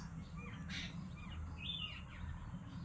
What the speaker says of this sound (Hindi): ये चिड़ियों की आवाज़ आप सुन रहे होंगे